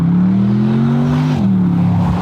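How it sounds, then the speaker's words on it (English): A Bentley GT3 race car, an all-wheel-drive machine of over 6,000 pounds, close by with a loud steady engine drone that rises in pitch, then drops as the turbo spool shifts, with no talking. "Did you hear the turbo spooling?"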